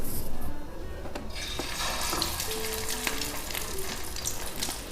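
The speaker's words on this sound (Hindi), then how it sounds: "अब कबाबों को फ्राई करते हैं।" Shami kebabs fry in hot oil with a steady, close crackling sizzle that carries on throughout, punctuated by a few light clicks of a utensil against the pan.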